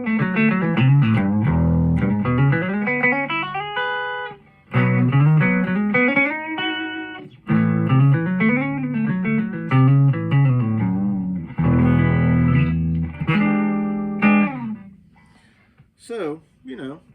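A vintage Fender Duo-Sonic electric guitar, 1957 or 1965, plays loud clean melodic noodling phrases up close, with short pauses between runs and a brief high squeak near the end.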